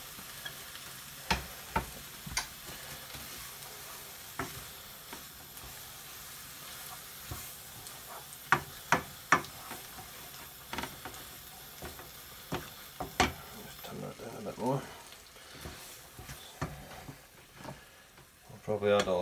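Fish curry sizzles quietly in a pan as a soft, steady frying hiss, punctuated by sharp clinks and taps of a utensil stirring against the pan.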